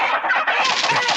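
A flock of clucking, fowl-like bird calls pours out close and loud in a dense, continuous chatter, with rapid overlapping clucks and squawks filling the brief moment and no talking.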